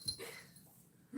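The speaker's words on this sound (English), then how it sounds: "Oh, great. Now the dog's coming to your rescue." A dog lets out a few faint, short whimpers and soft yips close by in a quiet indoor room, with small gaps of near silence between them.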